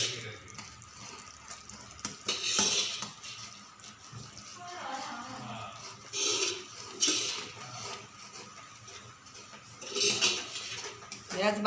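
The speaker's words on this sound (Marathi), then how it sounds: "आता आपण थोडं थोडं करून खोबरं टाकायचं त्याच्यात." Grated coconut tipped little by little into a pan of jaggery for gul khobryachi chikki, giving soft scraping and rustling clatter in several bursts, moderately close, with kitchen handling between additions.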